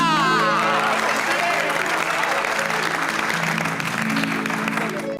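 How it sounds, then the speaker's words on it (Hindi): Applause for Babita ji in a Taarak Mehta comedy scene, a steady, loud wash of clapping lasting several seconds with music-like tonal layers underneath and no clear speech. "इसलिए एक बार बबीता जी के लिए जोरदार तालियां"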